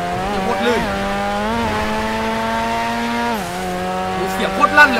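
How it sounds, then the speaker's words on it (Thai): A car with a loud aftermarket exhaust holds a steady droning engine note, with a brief rev dip near the start and another falling shift late on, loud and close throughout. "เลิกขับได้รถท่อดังๆเนี่ย"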